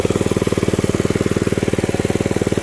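A 1979 Mountfield M1 Monarch 5HP rotavator engine runs steadily at close range, a fast, even single-cylinder chug with a regular pulsing beat and no voices.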